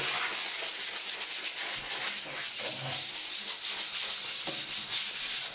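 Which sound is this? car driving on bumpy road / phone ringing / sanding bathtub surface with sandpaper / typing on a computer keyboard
sanding bathtub surface with sandpaper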